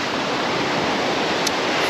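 Steady broadband wash of sea waves at Playa de Palma, Mallorca, breaking out at a distance from the shore, a continuous even roar with no distinct individual crashes.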